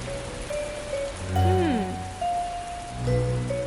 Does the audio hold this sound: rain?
yes